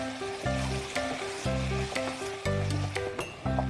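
Knacki sausages and Moroccan green chili frying in a hot pan with sautéed vegetables, a close, steady sizzle that pulses with stirring beneath a repeating musical backing.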